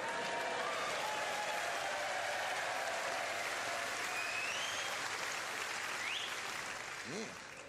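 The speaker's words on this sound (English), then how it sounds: "Just a round of applause for your Bristol cider drinking friend." Sustained audience applause and cheering from a comedy show crowd fills the hall, steady and loud throughout before tapering slightly at the end, with a voice briefly audible near the close.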